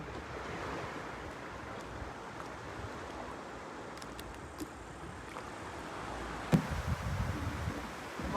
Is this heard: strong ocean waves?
yes